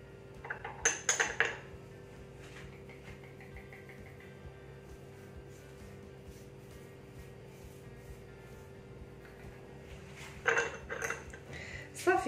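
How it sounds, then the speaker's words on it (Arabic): A spoon clinks and scrapes against a bowl while chocolate cake batter ingredients are stirred, two short bursts of clattering at the start and end separated by a long stretch of quiet room hum. "صافي، كنحركو مزيان هاد المكونات."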